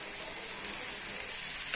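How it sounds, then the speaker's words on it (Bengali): Bengali masala cooking down in a pan as it is stirred until thick, for jhal muri, giving a soft, steady sizzling hiss that runs unbroken and fairly faint throughout. "মশলাটা একদম কষা কষা হয়ে যাওয়া পর্যন্ত এটা অনবরত রান্না করবো এবং নাড়তে থাকবো"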